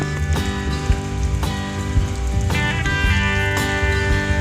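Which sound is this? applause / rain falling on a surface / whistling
rain falling on a surface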